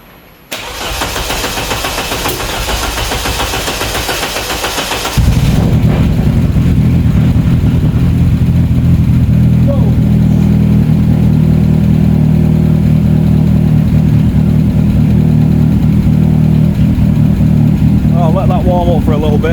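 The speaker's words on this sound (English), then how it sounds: "check for any leaks before we go for the first start up with the new pump and the new throttle body" A road rally car engine, just refitted with a new fuel pump and throttle body, cranks briefly and then catches, settling into a loud, steady, rumbling idle recorded close by.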